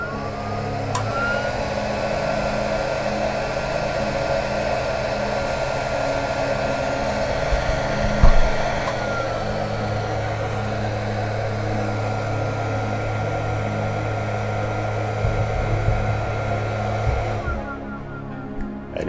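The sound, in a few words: industrial power supply starting up, loud cooling fan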